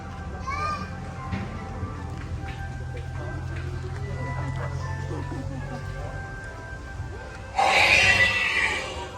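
A dinosaur model in a park in Pattaya plays a simulated roar, a loud harsh burst near the end after a stretch of crowd chatter and children's voices, with a person talking nearby.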